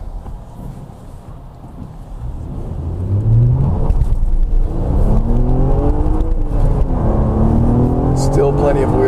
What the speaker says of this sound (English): Okay, so let's try a pull. We're gonna try and be light with the throttle application so we don't get much wheel slip.